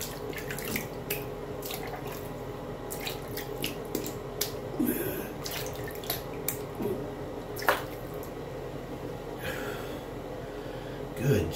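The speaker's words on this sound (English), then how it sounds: "Alright, I'm going to rinse my face off real quick." Water splashing and dripping as a face is rinsed at a running sink after a shave with a Parker 78R safety razor, irregular close splashes and taps over a steady faucet flow.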